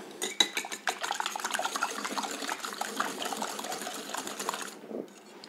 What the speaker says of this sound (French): On fouette une première fois